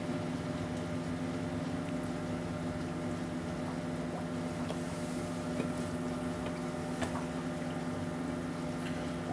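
A Blau Reefmotion DC pump on an aquarium protein skimmer runs with a steady whirring hum and gurgling water, a continuous even drone throughout.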